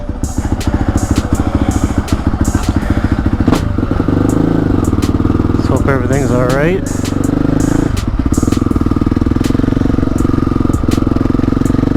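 A Honda CRF450L motorcycle engine runs steadily and loud throughout, rising briefly in pitch midway as it revs, while a person talks over it.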